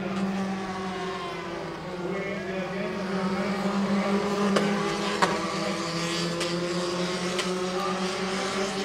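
Formula 4 race cars in the 2017 South East Asia championship run in a close line on track, their engines a rising and falling whine with gear changes and brief sharp blips, heard at moderate distance.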